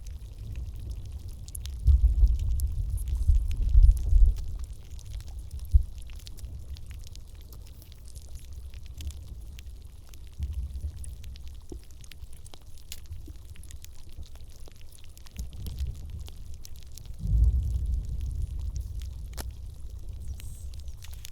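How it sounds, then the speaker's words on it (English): Water moving deep inside a glacier crack, picked up by a hydrophone lowered about 20 meters down: a low, rumbling, bass-heavy gurgle with a few louder surges, steady and without voices. "I had my hydrophone 20 meters into this crack where there was water. And it sounded like this."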